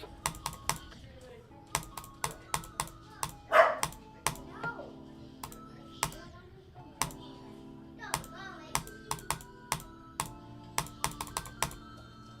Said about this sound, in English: Dang, my dog is barking.